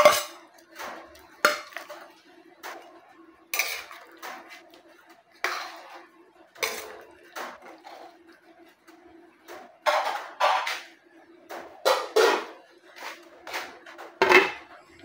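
A spoon repeatedly clinks and scrapes against a pot while pork soup with papaya is stirred, sharp metallic knocks in an irregular rhythm over a steady low simmering hum, close and fairly quiet.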